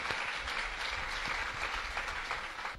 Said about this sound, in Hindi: इनका तालियों से आप स्वागत कीजिए।